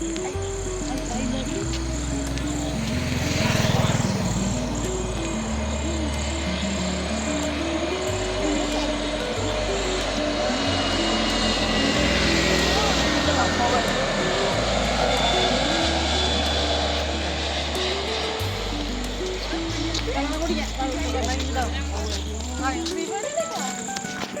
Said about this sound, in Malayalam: വിമാനം കണ്ടോ?